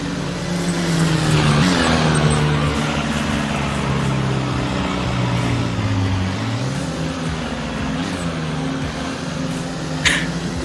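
A car driving in Roblox, with a steady engine drone that rises and falls as it accelerates, close and continuous, with a brief click near the end and no talk over it.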